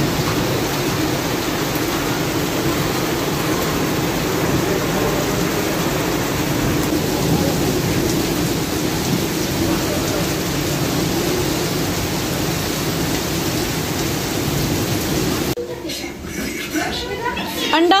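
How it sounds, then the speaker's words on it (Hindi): Loud, constant roar of heavy rain pouring down, a dense broadband hiss that holds steady before thinning out near the end. "फुली बारिश स्टार्ट हो गई है।"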